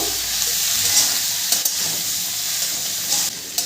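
Diced, seeded tomato stirred into vegetables frying in a pan for navratan korma: a continuous bright sizzle with occasional scraping spoon strokes, close and steady, no talking.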